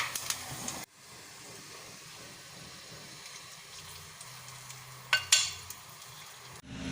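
Browned fried coconut pieces in hot fat hit red cow pea payasam with a brief crackling sizzle, then a steady soft hiss, and a clink of a utensil stirring near the end.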